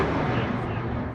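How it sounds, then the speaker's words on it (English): An underground hydro vault explodes on King Street in Toronto's financial district, producing a loud, sustained, roaring blast of broadband noise that stays dense for the whole moment before easing slightly at the end. "Explosion after explosion rocks the financial district after an underground hydro vault catches fire."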